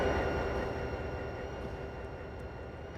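A train idling at a station platform on the Bayport Branch in snow, a steady broad rumble and hiss that slowly fades a little, with no talk.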